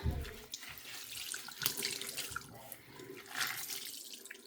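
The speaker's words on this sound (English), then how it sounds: "we'll do a second rinse." A Norwex cleaning pad being rinsed under a running bathroom sink tap, a steady soft splash of water with faint drips and sloshing, fairly quiet and alone.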